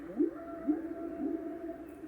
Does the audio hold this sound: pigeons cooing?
no